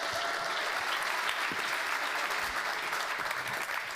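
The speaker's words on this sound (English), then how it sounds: "of course, clap for it" Steady, even applause from a demo day audience, a dense wash of many hands clapping continuously at moderate loudness, with no voices on top.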